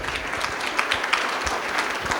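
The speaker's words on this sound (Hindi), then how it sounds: "तो एक बार हमारे दोनों कलाकारों के लिए जोरदार तालियां होनी चाहिए।" An audience claps loudly for two actors at the end of a stage play at a theatre festival, a dense steady wash of applause with sharper individual claps throughout.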